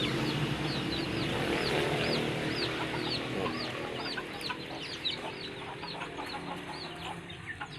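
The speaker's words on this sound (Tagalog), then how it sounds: "May sisiw din dito sa loob." Australorp hen clucking among newly hatched chicks, with many small high peeping calls repeating steadily over a continuous farmyard murmur, fairly close and moderately loud throughout.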